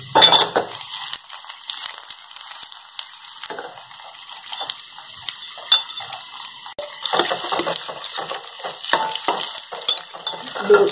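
Ridge gourd fries in hot oil with a continuous close sizzle, broken by scraping stirs and occasional clinks of a utensil against the pan.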